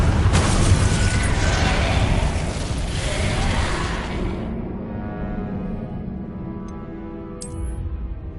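A Confringo fire spell detonates in Hogwarts Legacy, a loud broadband blast that rolls on for several seconds and then settles into a low rumble, with a sharp crackle near the end.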